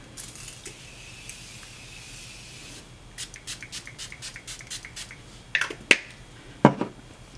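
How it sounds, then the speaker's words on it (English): Morphe setting spray and Tatcha dewy skin mist spritzed onto a face, a faint steady hiss followed by several short pumps and a few sharper bottle clicks and taps, close and without talk. "I'm just going to go ahead and spray my face with my Morphe Continuous Setting Spray and my Tatcha Luminous Dewy Skin Mist."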